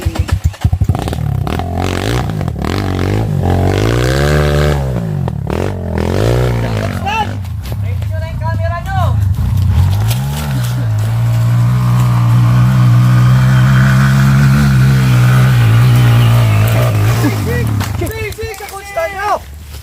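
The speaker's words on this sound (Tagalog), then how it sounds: "Lakas ng motor ni Juan, Boss Johan." A motorcycle engine revs hard and roars steadily close by, its pitch rising and falling, with some clatter and scraping over the top.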